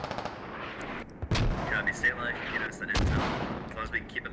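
Machine gun fire in the military shooter game Squad, with several loud bursts of automatic gunfire, the heaviest near the start and middle, over a constant battlefield din and faint voice chatter.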